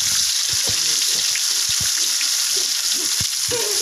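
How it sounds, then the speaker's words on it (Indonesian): Ground coriander and pepper spice paste frying in hot oil, a dense continuous sizzle with scattered pops and stirring taps, close and loud with no voices. "Sekarang bumbu uleknya kita goreng dulu."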